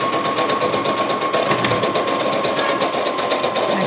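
A sewing machine stitches a blouse, its fast, even mechanical whir running steadily and close throughout with no one speaking.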